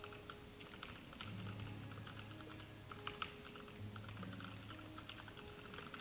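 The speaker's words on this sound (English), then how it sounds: "Who are you typing to?" Computer keyboard typing runs in quick, steady clicks and clacks throughout, mixed in with a busy game background of music tones during an Animal Crossing creator competition.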